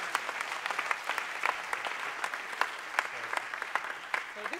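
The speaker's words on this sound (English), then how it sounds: "We'll give you a hand of a round of applause" A church congregation at a Sunday service claps for a man called up to receive gifts. The applause is moderately quiet and even, with individual sharp claps standing out over a soft crowd bed and a faint voice near the end.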